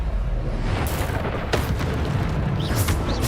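A Bombarda spell explosion in Hogwarts Legacy, a steady, loud rumbling blast with noisy roar and a few sharper bursts layered in, no voice.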